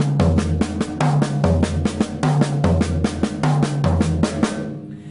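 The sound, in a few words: drum fill from mounted tom to floor tom, high to low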